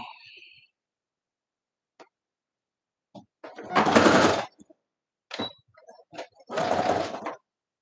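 A sewing machine runs a short back stitch while sewing a scissor holder, in two separate bursts of rapid whirring with quiet pauses and small handling clicks between them.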